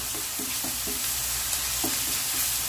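Shrimp and butter fry in a hot pan for shrimp egg fried rice, giving a steady close sizzle with occasional soft stirring scrapes and taps throughout.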